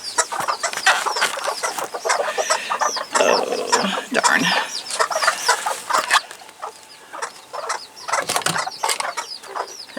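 Hens cluck and squawk in quick, busy bursts close by, with a brief spoken exclamation mixed in.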